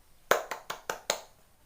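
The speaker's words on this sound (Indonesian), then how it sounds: "beri tepuk tangan untuk kelompok 3" Classroom applause for a student group, a short run of five sharp, evenly spaced hand claps, close and fairly quiet, with no voices over them.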